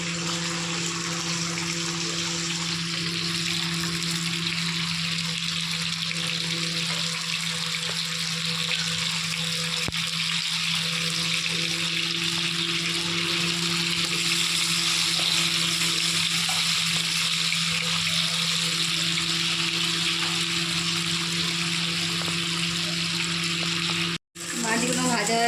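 Bhola fish frying in hot oil, a steady, even sizzle that runs unbroken throughout, with a low hum beneath and a brief dropout near the end.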